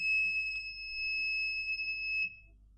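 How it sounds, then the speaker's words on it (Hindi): An electronic buzzer on a digital touch switch kit gives a steady, piercing single-pitch tone, close and loud, holding for about two seconds before cutting off abruptly. "इंडिकेशन के लिए हमने एक बजर लगा दिया है"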